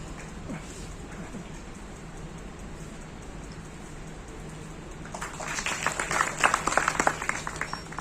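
An audience at a felicitation ceremony in Nagpur breaks into applause to welcome a guest on stage, a dense patter of clapping that swells up after a stretch of quiet room hum and grows louder.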